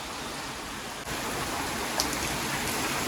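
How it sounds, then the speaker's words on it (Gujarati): Heavy rain pours steadily in a continuous, even hiss with no voices, staying constant throughout. "બહુ વધારે વરસાદ આવી ગયો."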